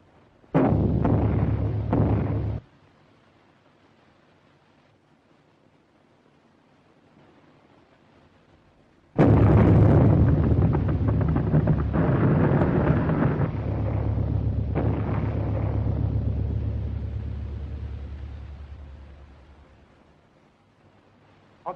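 Heavy bomb explosions from a 1930 aerial war film: a short loud blast, a pause of low rumble, then a long roaring barrage of detonations that slowly dies away.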